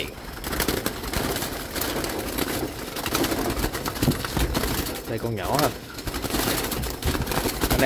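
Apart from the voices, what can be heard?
Malaysian doves cooing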